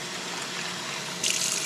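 Water poured from close by into a bowl of freshly caught sand fleas (mole crabs) full of sand, a steady liquid trickle that swells into a louder splashing pour near the end.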